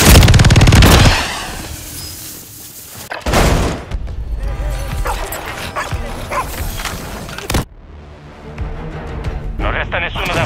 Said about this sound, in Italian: Mitragliatrice leggera, qui!